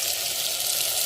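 Long beans drop into a hot pan and sizzle with a steady, dense hiss, close and continuous for a moment.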